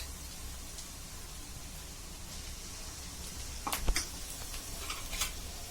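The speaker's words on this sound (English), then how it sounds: "I'm going to let this also fry for about few minutes." Ginger garlic paste frying in oil with onions, a steady low sizzle throughout with a few brief stirring clinks near the end, no voices.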